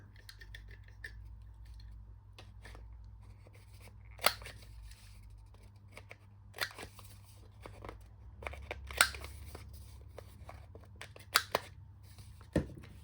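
Corner rounder punch clipping the corners of paper card stock, a series of short, faint snipping clicks spaced irregularly over a quiet background hum.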